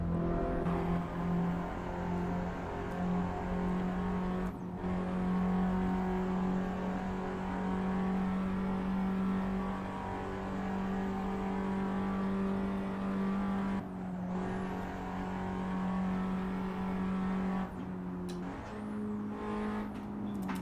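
Stock Seat Leon FR engine in the Assetto Corsa racing game on a busy traffic server, a steady droning hum that rises and falls through repeated accelerations with brief gear-shift dips, loud and continuous with no talking.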